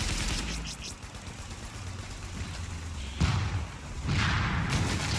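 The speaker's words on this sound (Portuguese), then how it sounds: "tem alguém me atirando. Ah, é a torretinha me atirando" Enemy turret fire in The Division during a Falcon Lost incursion, a dense rattle of shots and impacts mixed with game ambience, with heavier bursts near the end.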